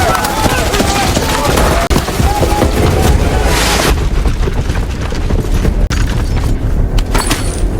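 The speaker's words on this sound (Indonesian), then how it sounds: "terjadi baku tembak yang sangat sengit hingga menghancurkan segala benda yang ada di dalam" Intense, sustained gunfire and crashing destruction during an indoor shootout in an action film, a loud, dense barrage of shots and impacts running without pause.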